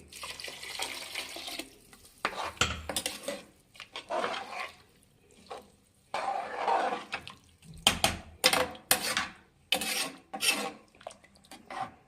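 Water pours into a pan of rice in several bursts separated by pauses, a gushing splash that stops and restarts.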